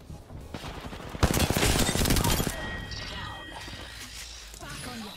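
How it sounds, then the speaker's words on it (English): Video game gunfire erupts as a dense rapid burst of automatic shots for about a second, loud and close, set among quieter game sounds and low voice chatter before and after. "I'm under fire."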